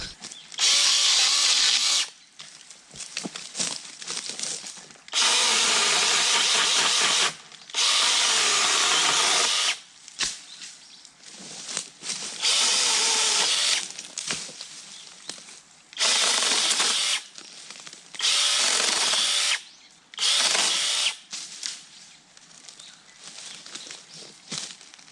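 Kebtek pole chainsaw cutting dead branches on a pine tree, its loud high whine coming in repeated bursts of a few seconds each, with quieter pauses and faint rustling between cuts.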